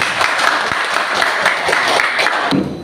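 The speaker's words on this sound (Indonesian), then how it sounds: "kita tepuk tangan dulu" Students in a classroom clap for a group that has just finished presenting, a loud, even burst of applause close by that carries on steadily throughout.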